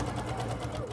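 A sewing machine stitching the seam of a jigsaw quilt block runs in a short, fast burst of rapid mechanical clatter, heard up close over a brief moment.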